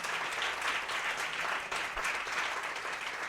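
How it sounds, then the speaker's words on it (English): Dense, steady applause from a live audience at a podcast taping in Washington, DC, a loud, continuous wash of many hands clapping without a break. "another big round of applause"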